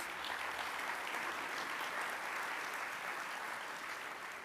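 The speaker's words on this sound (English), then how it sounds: "Let's give him a round of applause, please." A city audience gives a councilman a round of applause at a State of the City address, sustained, even clapping from many people, fairly soft and distant, with no voices over it.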